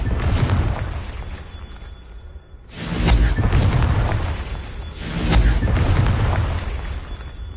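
Confringo spells blast in Hogwarts Legacy, two loud booming explosions a few seconds apart with whooshing tails, over a constant rumbling game backdrop.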